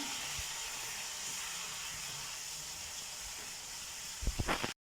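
Onions frying in a pan until brown, a steady loud sizzling hiss that runs evenly throughout, with a few low knocks near the end before it cuts to silence.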